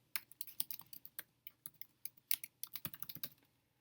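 A password is typed on a computer keyboard as a quick, irregular run of close, crisp key clicks, with no talking.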